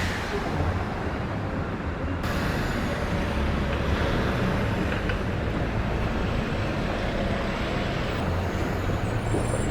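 A city bus pulls in on a downtown Houston street amid steady traffic roar, with a brief hiss of air brakes partway through, no voices over it.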